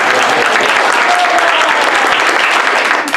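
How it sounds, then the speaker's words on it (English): An improv comedy show audience applauds a performer, a loud, thick wash of many clapping hands sustained evenly throughout, with faint voices mixed in beneath. "Give Diane a round of applause."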